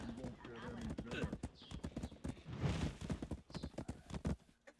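A horse gallops in the Black Desert Online video game, with rapid rhythmic hoofbeats and a brief whinny under someone talking.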